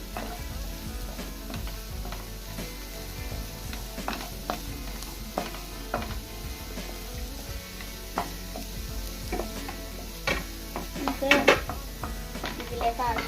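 Carrots and tomatoes are stirred into a sizzling pan of chicken pasta, a steady fry hiss under repeated scraping clinks of a spoon against the pan, growing busier near the end.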